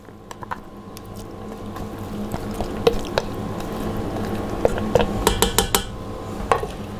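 Diced onion tipped into a Farberware pressure cooker pot, with clinks and scrapes of a utensil against metal and soft wet thuds, close and fairly loud, no talking.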